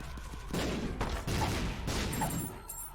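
Bomb explosions in the video game The Binding of Isaac, several loud booming blasts in quick succession, overlapping into a rumbling barrage with brief gaps between bursts.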